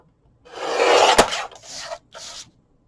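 A paper cutter slides across paper while trimming for a mini album, a close scraping swipe followed by two shorter rasping passes, with a sharp click partway through the first.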